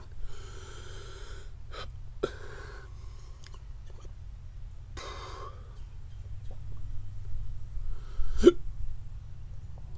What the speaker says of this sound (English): work through the hiccups here.